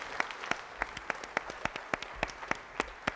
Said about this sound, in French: Et la bise sous vos applaudissements.